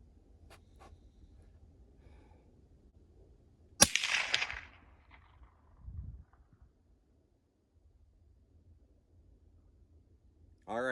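A single subsonic 6.5 Creedmoor rifle shot cracks sharply at an outdoor range, followed by a brief thud and then near silence with a faint low background.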